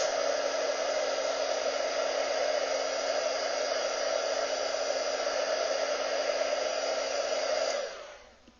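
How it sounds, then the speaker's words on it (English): A heat gun blows a loud, steady whooshing roar while setting chalk paint on a paper craft, running alone before cutting off near the end. "now I'm going to go ahead and heat it again with my heat gun just to make sure everything is set"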